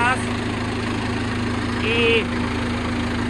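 A John Deere 4045 Tier III diesel engine idles steadily nearby, a constant low hum with a faint whine, while a short voice sound briefly rises above it.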